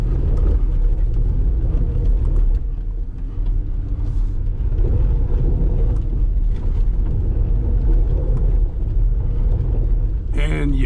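Jeep Wrangler JL Sport S in two-wheel drive on regular tire pressure climbs a hill, its engine a loud, steady low rumble that surges and holds throughout, close to the vehicle.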